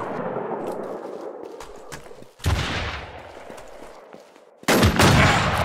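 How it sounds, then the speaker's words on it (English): Gunfire from several enemies in a video game, bursts of shots crackling in a close, dense fusillade, with two especially loud heavy volleys breaking in over a continuous roar. "Fucking seven of them shooting at me."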